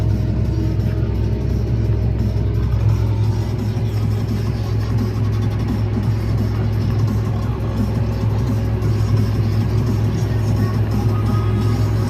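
A Fendt tractor engine drives through a field during sowing while its guidance drifts off the line, giving a steady, close, continuous low rumble for the whole stretch without talk over it.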